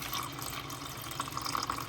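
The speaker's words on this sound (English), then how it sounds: "So this one is recommended to put the water in" Water pours into a home yogurt maker, filling it slightly above the line, heard as a steady close trickle with brief splashy bursts toward the end.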